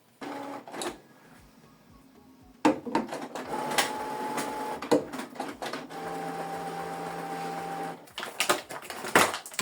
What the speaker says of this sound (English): So you switch the printer on from this button.